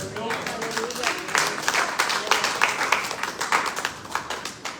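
A church congregation applauds during a sermon, with a fairly quiet burst of many hands clapping that builds after a moment and continues in a loose, busy patter, with some voices mixed in.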